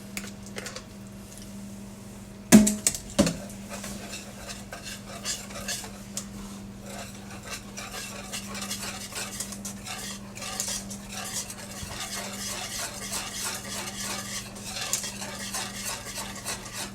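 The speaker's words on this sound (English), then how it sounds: "You gotta stay there and stir, because it'll stick quick." Banana pudding is stirred steadily in a pot, a continuous close scraping and swishing with a few sharp clinks of the utensil against the pot near the start, alone without talk.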